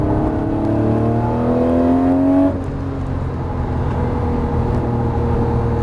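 A Lamborghini Murciélago on the Las Vegas Motor Speedway track, engine note rising steadily under acceleration, then a gear change drops the pitch before a loud, sustained roar continues close by.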